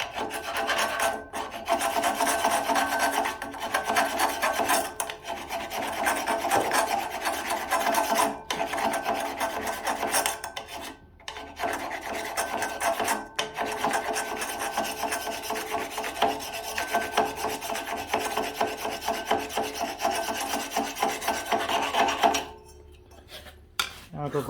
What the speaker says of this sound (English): Let me grab a file and we'll clean some rust off of that